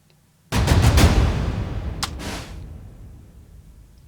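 Heavy cinematic percussion hits from the Laboratory Audio Strikeforce library: a booming cluster of big drum strikes followed by a second pair, each ringing out into a long, fading reverb tail.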